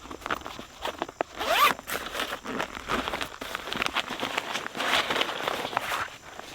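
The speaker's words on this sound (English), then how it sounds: "You have a one-way zipper." A one-way zipper on the storage bag of an Odoland outdoor folding table is drawn in quick, close, rasping pulls, with a few rustling handling noises between strokes.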